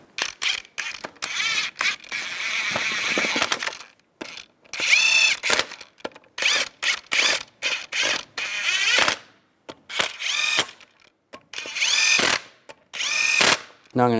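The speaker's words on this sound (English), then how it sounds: "Put the lug nuts on." Power tool run in repeated short bursts to spin lug nuts onto a 2002-2005 Chevrolet Trailblazer front wheel, whirring and ratcheting up close with brief pauses between each nut.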